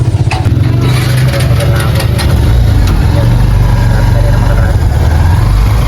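A motorcycle engine runs steadily at close range, a loud, continuous low rumble that holds for the whole stretch with no clear revs.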